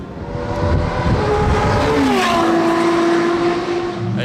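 A high-performance supercar storms past on Circuit Paul Ricard, a loud sustained engine roar with a rising then falling pitch as it accelerates by close to the listener, filling the whole moment with no talk.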